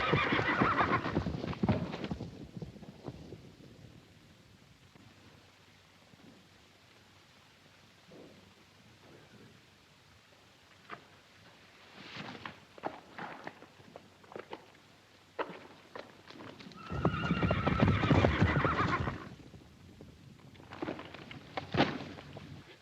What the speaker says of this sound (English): Damn them horses. Stampeded again.